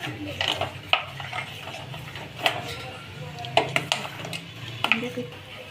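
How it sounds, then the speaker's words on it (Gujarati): Boiled dal lentils tipped into a cooking pot and stirred, with a spoon scraping and clinking against the metal in several sharp knocks over low kitchen sizzling, close and moderately loud. "બાફેલી દાળ નાખી દઈશું અને થોડી થવા દઈશું"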